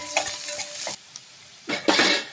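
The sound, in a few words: stirring onions and dried red chillies frying in a pan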